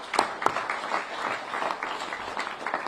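A gathering of officials and guests breaks into brief applause, a moderate patter of clapping hands from a modest crowd that sounds somewhat distant and lasts only a few seconds.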